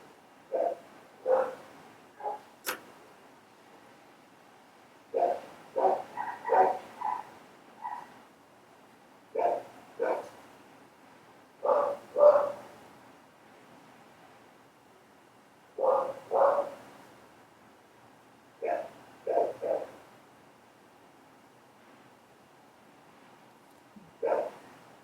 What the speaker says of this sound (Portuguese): deletem o latido dos cachorros